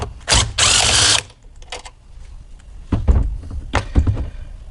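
A power tool whirs in two loud bursts removing a 10mm bolt from a Dodge Dart coolant reservoir, then clanks and rattles of metal parts follow as the bolt comes free.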